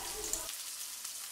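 Two finely chopped onions sautéing in hot oil for a prawn curry, a short burst of sizzle that drops off sharply about halfway through, leaving only faint crackle.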